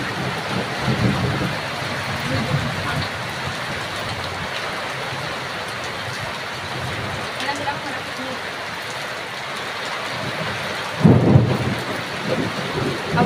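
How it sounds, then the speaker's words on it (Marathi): Heavy rain pours steadily with rolls of thunder, a dense continuous hiss broken by a louder rumble near the end, while a person talks over it at times. "एकदम भारी असा पाऊस पडायला लागला"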